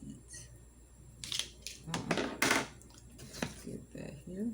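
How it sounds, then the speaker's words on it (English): A knife cuts through a watermelon in several wet, crunchy strokes, close up and moderately loud, with soft handling clatter between cuts and a faint voice in the background. "So y'all can watch me cut that up."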